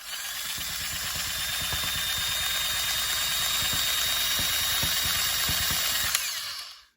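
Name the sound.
rug tufting gun sewing yarn into fabric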